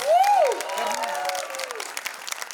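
Applause and cheering from an audience at a song premiere event, a dense wash of clapping with a voice briefly rising over it at the start before the crowd noise carries on steadily.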